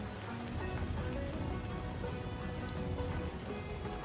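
Rain falling in the tank video game World of Tanks, a dense, steady patter of drops on surfaces that continues evenly throughout without pause.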